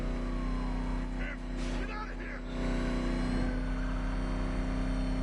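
The Batmobile's engine in Batman Arkham Knight drones steadily with a low rumble and some revving. A brief burst of game effects sounds partway through, and the engine stays loud and continuous.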